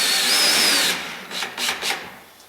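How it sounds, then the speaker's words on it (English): Small black screws being driven into wood with a number 2 bit, a sustained whirring drive first, then several short rasping bursts of the driver as the screws seat, close by with no talk. "go ahead and drive these screws in."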